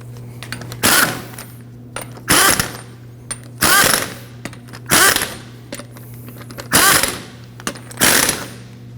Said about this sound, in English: we can snug these down in a star pattern